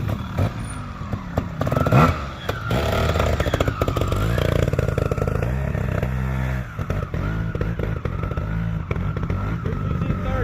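A trials motorcycle engine popping and chugging at low revs as the clutch is worked, uneven bursts of revving and stuttering pops, close and loud, with a clattering mechanical edge.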